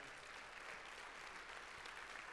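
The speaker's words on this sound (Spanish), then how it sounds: "dale un fuerte aplauso a Él" A church congregation applauds during a sermon, a steady wash of many hands clapping at once, fairly faint and sustained throughout without a break.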